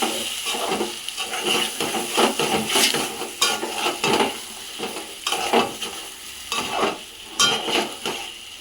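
A spoon stirs stuffed brinjal curry coated in masala paste in a pan, with repeated scraping strokes over a steady frying sizzle, close and moderately loud, no talking.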